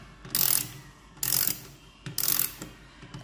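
A ratchet fitted with a Gator Grip universal socket clicks through three short bursts of rapid pawl ticking, close and crisp, with quiet gaps between, no talk.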